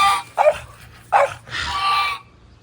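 Dogs in a summer vegetable garden give two sharp barks, then a longer whining yelp, loud and close.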